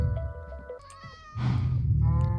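A house cat meows in Minecraft, a couple of short tonal mews over a steady game background in a desert biome, with no talking.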